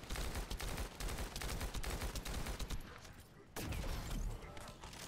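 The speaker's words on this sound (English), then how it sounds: "I'm gonna just keep shooting you." Sustained automatic weapon fire in The First Descendant, rapid dense bursts rattling almost continuously, with a brief lull before shooting resumes, loud and close in the game mix.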